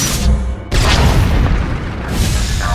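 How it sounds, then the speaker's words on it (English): Flux cannons incinerate a capital ship in a sci-fi game battle, a sustained loud, rumbling explosion with a sharp second blast partway through, roaring on with no speech. "Sound of my flux cannons incinerating one of your capital ships."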